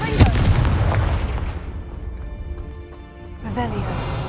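A Confringo fire-spell blast in Hogwarts Legacy, cast against poachers at a blockade, opens with a sharp, loud explosive crack that decays into a ringing tail, and a second burst follows near the end.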